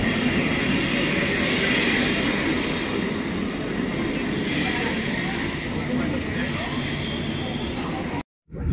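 Double-decker passenger train riding from Brussels toward Antwerp, Belgium: a steady low rumble of wheels on rails with a faint high squeal throughout, heard from inside the carriage, ending in a brief cutout.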